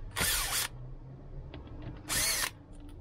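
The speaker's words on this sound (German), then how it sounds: "Hierfür benötigt ihr einen T20. Das könnt ihr an den Akkuschrauber montieren." A cordless drill fitted with a T20 Torx bit, used in a BMW E60/E61 seat repair, whirs in two short loud bursts separated by a pause, with faint clicks between.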